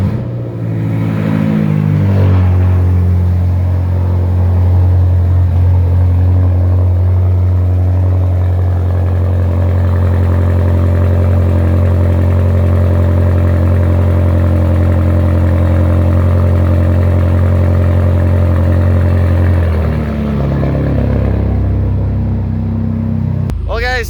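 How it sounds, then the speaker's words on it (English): A 700 hp BMW M6 engine starts with a quick crank and flare, then settles into a loud, steady, deep idle close by for about twenty seconds before the revs change near the end. "this will be the very last time that I start the M6 in my ownership"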